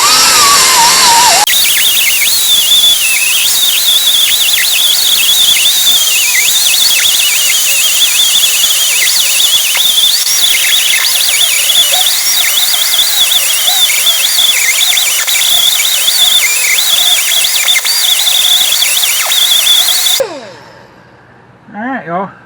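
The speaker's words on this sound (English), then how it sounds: "I'm going to switch over to the air grinder here." A pneumatic air grinder fitted with a 60-grit disc grinds a 2000 Chevy Silverado truck frame during repair, a loud, continuous high whine wavering in pitch for about twenty seconds before cutting off abruptly.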